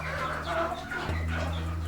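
A young Orpington hen clucks in a run of soft, close clucks, with a low steady hum running underneath.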